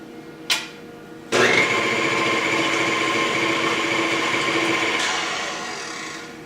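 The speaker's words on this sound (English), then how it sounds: "beat together the egg whites and cream of tartar until the mixture becomes foamy" An electric mixer beats egg whites with cream of tartar in a medium mixing bowl: a short click, then a loud steady whine that starts abruptly and runs several seconds before slowly tapering, alone without talk.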